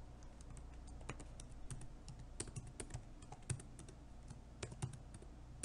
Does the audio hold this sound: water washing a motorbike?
no